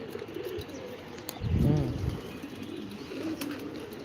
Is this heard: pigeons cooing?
yes